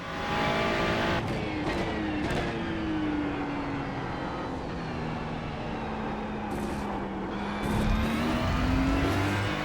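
Race car engines howl during a circuit race, a continuous loud drone from the onboard car with pitch dipping and climbing through gear changes as other cars roar close by.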